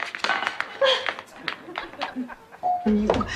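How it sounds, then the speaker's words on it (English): A doorbell sounds on a sitcom set, a clear two-tone chime near the end that rings out over lively voices and some audience reaction. "There's the bell. That must be Ham at the door."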